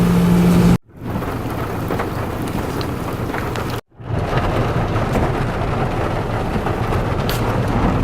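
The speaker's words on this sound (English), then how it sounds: "The rain's really picked up" Heavy rain pours down outside on a farm tour, a dense, loud, continuous roar broken by two brief cutouts, with low rumbling under the downpour.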